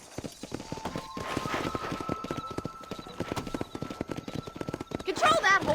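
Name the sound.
horse hooves and whinny from the video game Red Dead Redemption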